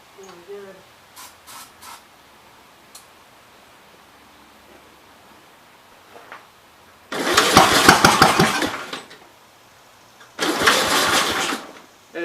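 A 1950s Gravely Model L engine, running only on carb cleaner, fires up in two loud, rough bursts of a few seconds each, separated by a pause. Faint talk comes before the first burst.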